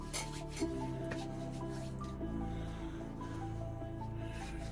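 Hands rubbing shaving product into the face, a close, continuous soft scrubbing and squishing on skin with a steady level and no voices.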